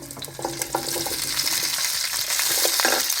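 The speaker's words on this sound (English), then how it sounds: "stir and let it fry" Olives frying over high heat in hot oil with garlic and bay leaves, a loud, continuous close sizzle with occasional soft stirring scrapes.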